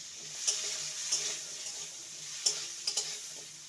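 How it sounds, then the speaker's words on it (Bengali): Potato pieces with a pinch of salt and turmeric fry in a pan with a steady, soft sizzle, broken now and then by brief scrapes and clinks as they are stirred. "আলুটাকে লাল করে ভেজে নেব।"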